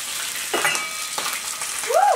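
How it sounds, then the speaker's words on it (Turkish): Oil sizzles and crackles steadily with a few louder bursts as vegetables fry and are stirred, close by with no talking. "Şimdi kızartıyorum buraya."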